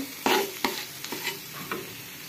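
Food stirred and fried in a pan, with a steady sizzle broken by several distinct scraping stirs at irregular intervals, close and fairly quiet, no talking.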